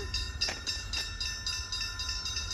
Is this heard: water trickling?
no